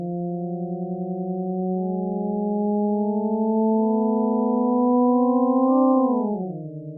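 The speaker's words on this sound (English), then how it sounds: "It's just going to sound like a sweeping pitch, but you can view it as the motion of the ground." Seismic ground motion from Kīlauea turned into sound: a smooth, steady electronic tone that drifts slowly upward in pitch for several seconds, then drops quickly; clean and continuous with no voices.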